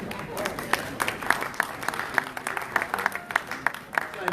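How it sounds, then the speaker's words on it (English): Audience clapping at a diaspora conference plenary session, sparse and uneven claps at moderate volume beneath a murmur of crowd noise and voices. "Give him a hand clap."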